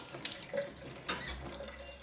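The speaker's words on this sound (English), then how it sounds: "Just going to rinse this muslin cloth out that we've already strained with. This is with red hot water." Hot tap water runs into a sink while a muslin cloth used for straining nettle beer is rinsed beneath it, a steady close splashing with brief louder gushes as the cloth is moved, no talk.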